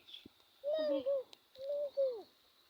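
A dove coos softly nearby, two low, mellow calls with a short pause between them over a faint background hum.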